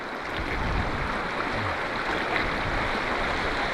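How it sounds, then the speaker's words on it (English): Snowmelt freshwater stream in the Arctic flooding down into the ocean, a steady broadband rushing and gurgling of flowing water, close and continuous with no voices. "There's a beautiful freshwater stream that's coming down as the snow melts and flooding down into the ocean here."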